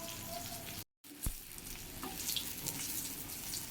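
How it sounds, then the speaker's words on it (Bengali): Steady oil sizzle of eggplant slices frying throughout, with a brief dropout near the start and a soft clink after it; no voices. "এইভাবে দুই পিঠ ভেজে নেওয়া ভালো করে"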